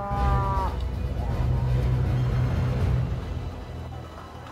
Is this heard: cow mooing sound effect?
yes